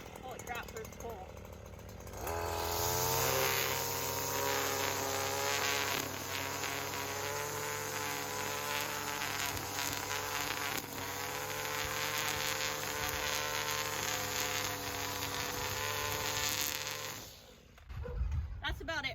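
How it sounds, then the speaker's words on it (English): A string trimmer edges a concrete sidewalk vertically, its motor starting with a pull and settling into a loud, steady high-pitched buzz with shifting whine for about fifteen seconds before cutting off. "change the angle of the string trimmer"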